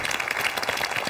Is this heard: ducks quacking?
no